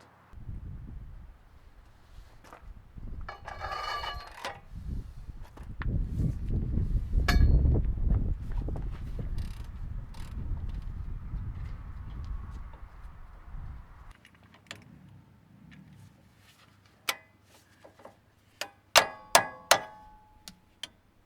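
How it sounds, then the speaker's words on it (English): Sharp metallic clangs ring out as vice grips clamped around a bolt are struck to drive a socket off it, during front brake rotor work on a Chevy Express or Silverado 2500/3500. A few scattered hits come first, then a quick cluster of loud strikes near the end. "put some vice grips around it, hit the vice grips, and it'll drive the socket off of the bolt"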